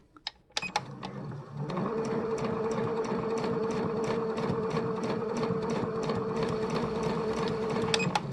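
An NCC Magic Art sewing machine, fitted with an 'O' presser foot, stitches fabric with a 1 cm seam allowance, a steady close rapid whirring hum after a few opening clicks.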